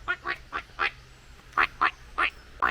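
A person outdoors on a hike imitates a duck, giving eight short nasal quacks in two groups of four, close and clear with no other talk.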